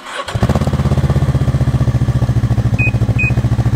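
A snowmobile-type tour machine engine starts with a short crank, then settles into a steady, loud idle chugging nearby, with two faint beeps.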